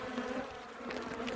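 Honeybees buzzing around an Omlet Beehaus beehive: a steady, close insect drone with overlapping wingbeat hums, slightly swelling and dipping, and no voices.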